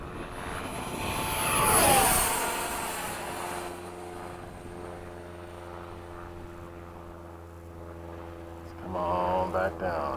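FMS 70mm F/A-18 RC jet flying in cloudy skies, its ducted-fan whine swelling loud as it passes close, then settling into a steadier distant roar.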